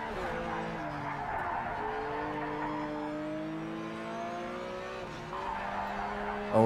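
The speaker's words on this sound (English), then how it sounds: "Drifting the Ferrari." A Ferrari drifting in the racing game Project Cars 3, its engine droning steadily with shifting pitch while the tires squeal and skid, close and continuous with no talking.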